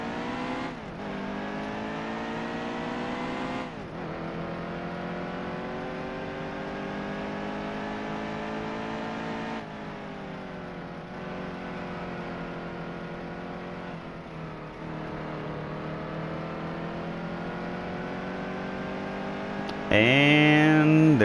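Race car engine in NASCAR Heat 2 qualifying, a sustained high whine that rises in pitch in long pulls, dropping between them, loud and continuous with no talk.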